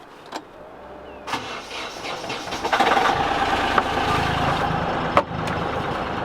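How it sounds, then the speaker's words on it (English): A sailboat's inboard engine cranks with a few sharp clicks, catches, and settles into a steady, close running drone that continues to the end. "There's that engine."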